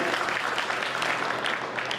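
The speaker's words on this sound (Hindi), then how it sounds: "अगर आपकी इजाजत मिल जाए तो मुझे ताली बजा के मुझे इजाजत दे दीजिए" Audience clapping at a Hindi poetry recital, a steady, moderately loud wash of many hands that continues evenly through the whole short stretch with no break.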